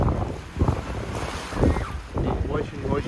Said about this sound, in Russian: с неба, с моря дует и сдувает все облака, горы.